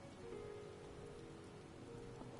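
Rain in the video game Final Fantasy XIV falls as a soft, steady hiss of drops on surfaces. It is faint and unbroken, with no other sounds over it.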